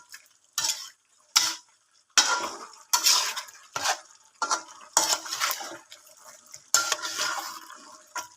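A spoon scraping and clanking inside a pot while stirring pork and chicken humba with boiled eggs, a series of separate bursts of metallic scrapes and knocks at close range, no talk.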